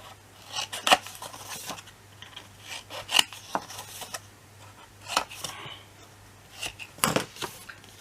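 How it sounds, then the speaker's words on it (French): Paper corners being bevelled for a scrapbook album give a series of short, sharp rasping cuts and scrapes, spaced irregularly over several seconds at close range, with no talking. "On biseaute nos angles."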